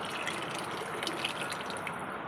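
Tamarind water is poured into a fish curry with a soft, continuous splashing trickle, faint and close, with a few brighter drips near the end.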